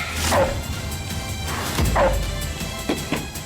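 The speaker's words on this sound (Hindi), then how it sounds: "डॉगी और भी गुस्सा हो गया, अब तो काट लेगा हमें" A dog barks angrily in a few sharp, loud bursts with short growling pauses between them, close by, in a Hindi drama scene with no talking.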